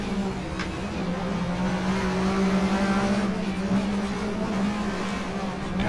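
A rear-wheel-drive Ford Sierra touring car in GTR2 laps Eastern Creek in a 1994 Australian Manufacturers Championship race, its engine droning loud and steady at sustained revs with no break throughout.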